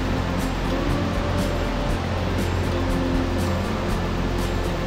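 A Nikko waterfall rushes in a steady, continuous roar of falling water, loud and unbroken throughout with no voices.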